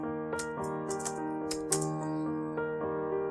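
Keystrokes of a command typed on a computer keyboard in a Linux terminal, a quick run of sharp clicks over a steady tonal hum, with no talking.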